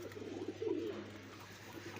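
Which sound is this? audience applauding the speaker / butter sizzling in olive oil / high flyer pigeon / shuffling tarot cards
high flyer pigeon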